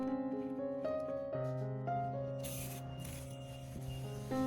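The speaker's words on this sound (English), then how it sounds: "pour the prepared nutrient solution into a spray bottle, then spray evenly onto the orchid plant" A spray bottle mists nutrient solution onto an orchid plant, giving a couple of short, bright hissing bursts over steady background music.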